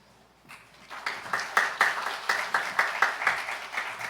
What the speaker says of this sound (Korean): 이제 목사님 나오실 때 큰 박수로 환영하겠습니다.